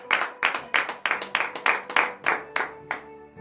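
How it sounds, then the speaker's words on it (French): A congregation at a morning prayer service clapping in unison, about a dozen loud, evenly spaced claps in a steady rhythm with a faint tone lingering beneath. "Donnez de vives acclamations à l'Éternel"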